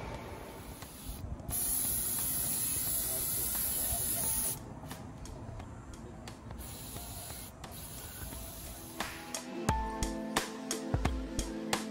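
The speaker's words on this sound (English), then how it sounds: "We're gonna go ahead and spray this down with brake cleaner and get it ready for our first coat." Aerosol brake cleaner sprayed onto a rifle before its first coat of camo paint, a loud, steady hiss in several long bursts with short pauses, close by, ending in scattered rubbing and handling noises.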